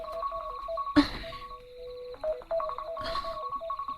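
A cellphone alarm goes off while the phone is charging: a melodic electronic ringtone of repeating bright tones, fairly close, broken by a sharp knock around one second and a brief rustle later.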